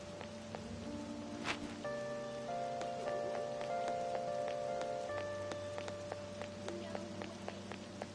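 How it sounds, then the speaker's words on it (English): Rain patters steadily in Persona 5 Royal, a soft continuous hiss of drops running beneath layered game music tones throughout. "Oh, this rain is so annoying."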